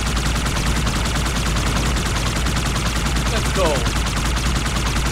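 Sustained gunfire in the shooter game Halo 2 Anniversary, a dense, steady barrage filling the whole stretch, with someone briefly speaking over it.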